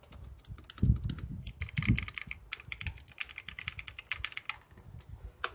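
TVS Gold mechanical keyboard with Cherry switches, its keys pressed lightly and repeatedly at close range, giving a rapid, irregular run of crisp clicky keystrokes with a few heavier thocks, no talking.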